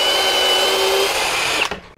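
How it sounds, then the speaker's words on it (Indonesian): A compact DongCheng 12V cordless brushless drill drives a screw with a steady high whine for about a second and a half, then stops abruptly with a clunk as the screw seats. "Nyekrup nih penekanannya harus maksimal"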